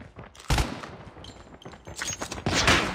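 Type-25 rifle fire in Call of Duty Mobile crackles in sharp bursts, with a loud opening burst followed by several quick volleys.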